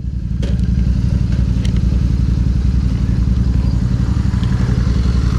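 A Royal Enfield Super Meteor 650 motorcycle on the move, its engine thumping in a steady rapid beat close up and loud, with a couple of brief clicks early on and no talk.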